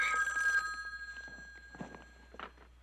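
An old-style telephone bell rings with a bright, tonal trill at the start and then fades off, followed by soft footsteps and light movement in a quiet room.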